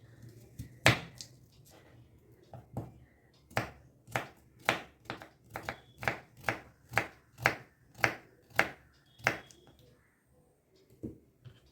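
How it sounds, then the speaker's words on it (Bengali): An onion is chopped with a knife on a board, about a dozen crisp, evenly spaced knife strikes close up, with quieter taps before and after. "সরিয়ে নিয়ে আমি পেঁয়াজটাকে একটু কুচিয়ে নিচ্ছি।"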